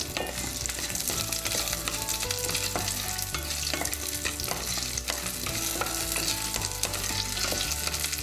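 Shallots for coriander chutney are sautéed in a pan with a dense, continuous sizzle and steady stirring scrapes, close and constant throughout with no voices.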